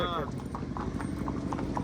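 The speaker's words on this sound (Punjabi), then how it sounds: "ਬਾਈ ਦਾ ਘੋੜਾ ਬਹੁਤ ਚੰਗਾ" A horse at the Jagraon animal market clip-clops with quick, regular hoofbeats close by while people talk over it.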